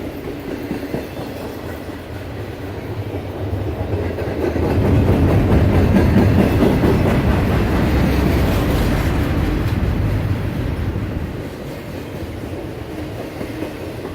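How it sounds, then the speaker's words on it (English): A long freight train with refrigerator cars rolls past close by, a steady rumble with rhythmic clatter of wheels on rail joints, swelling louder midway and then easing slightly. "this train always have refrigerator cars on them"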